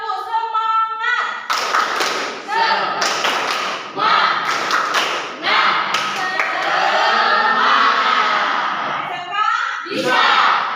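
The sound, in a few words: class doing rhythmic 'tepuk semangat' clapping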